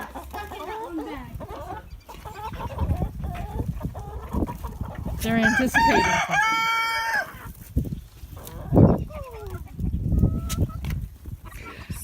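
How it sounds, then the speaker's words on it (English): Chickens cluck and squawk close by, with one hen crowing in drawn-out, stepped calls, while a person speaks briefly over the flock. "It's the same chicken that got stuck in that one bag."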